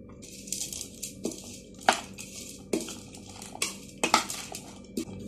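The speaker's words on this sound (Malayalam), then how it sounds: "ഇത് നന്നായിട്ടൊന്ന് മിക്സ് ചെയ്യാം." A spoon stirs chana chaat masala, a spiced chickpea salad with chilli powder and lemon juice, in a bowl, giving a steady series of separate scrapes and clinks against the dish at close range.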